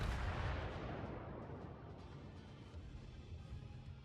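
Naval gunfire from battleship guns in World of Warships, a single heavy booming blast at the start that rolls off into a long rumbling decay, loud and deep, with no talking over it.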